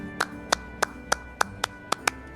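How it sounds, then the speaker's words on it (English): Hands clap at a wedding: eight crisp, evenly spaced claps ring out one by one at a steady, moderate pace over a quiet background. "Clap your hands, Mia."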